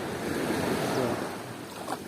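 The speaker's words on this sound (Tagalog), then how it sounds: "Malalim, malaking alon, no?" Big sea waves at a beach in Bicol, a broad rushing wash of surf with wind buffeting the microphone, swelling then easing, with no voices.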